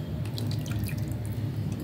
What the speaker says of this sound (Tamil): இப்போ வந்து தண்ணி ஊற்றிக்கலாம்.